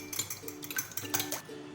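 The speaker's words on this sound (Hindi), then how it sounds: "देखिए हमने अंडे को अच्छी तरह फेंट लिया है" An egg whisked briskly in a bowl while preparing Chapli kabab mixture, a fast series of light clinks and taps of utensil against the bowl, close and clear with no talk.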